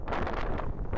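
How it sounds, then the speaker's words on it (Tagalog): Strong gusty wind buffets the microphone with a loud, rough, continuous roar that surges in short bursts. "Totoong buhay na nakahampas talaga yung hangin."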